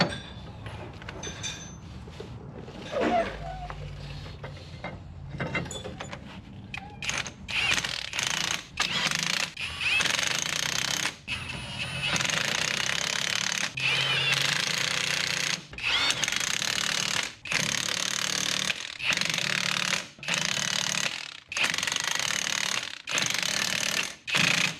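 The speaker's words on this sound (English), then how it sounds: "you can tell by the way the gun's clicking that it's torqued" An impact gun works on axle bolts on a Trailmaster off-road rig. Loud, rapid bursts of hammering repeat in a steady series of short blasts separated by brief pauses, each burst ending as the bolt torques up.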